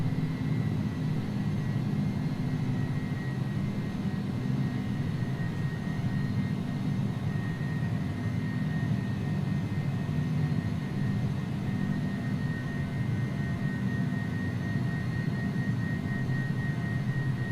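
Airbus A300 jet engines at climb power in the X-Plane 11 flight simulator make a continuous, even roar with a faint high whine running over it.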